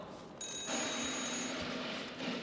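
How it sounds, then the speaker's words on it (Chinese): A telephone rings in a home scene from a Chinese TV drama, a steady electronic ring that starts abruptly and holds at an even level for about two seconds, with no talk over it. "电话。"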